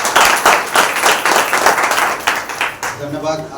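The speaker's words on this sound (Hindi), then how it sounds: "एक जोरदार परमेश्वर के लिए ताली बजाइए" Church congregation clapping together during a Friday special service, a dense, loud burst of many hands that runs steadily before easing off, with talk and voices mixed through it.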